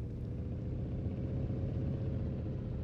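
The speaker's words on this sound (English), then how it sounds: "The car sounds are also really, really weird. Like, what car sounds like this?" Traffic in Cities Skylines 2 gives off a steady, low, droning car-engine rumble, even and unbroken, moderately quiet, with no voices.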